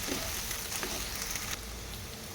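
Okra pieces frying in a pan make a continuous, dense sizzle that holds steady throughout and drops slightly in level just past the midpoint.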